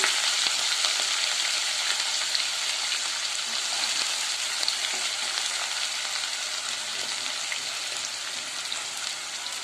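Onion and curry leaves fry in a hot mustard-seed and cumin tempering for pasta, making a bright, even hiss of sizzling oil with scattered small pops, steady and close throughout.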